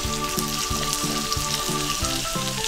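Pounded chicken tenderloin fries in about a tablespoon of oil in a large pan over medium-high heat, giving a loud, close, continuous sizzle with a faint rhythmic crackle throughout.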